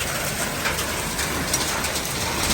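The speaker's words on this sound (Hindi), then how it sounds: "मूसलाधार विलेज में बारिश शुरू हो चुकी है। बारिश के साथ ही साथ ओले भी पड़ रहे हैं" Heavy rain mixed with hail pours down at night over a village, a steady dense hiss of drops drumming on surfaces without pause, fairly loud and close, with no voices.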